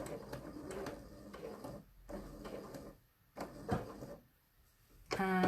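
Sewing machine stitching a welt pocket, running in short separate bursts with quiet pauses between them, close and fairly soft, ending in a louder mechanical clatter.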